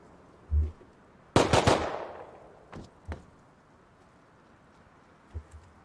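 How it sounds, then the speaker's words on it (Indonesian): A rapid burst of gunfire erupts in the game Rust, followed by a few scattered single shots with quiet gaps between them. "tuh ada tembak-tembakan tuh."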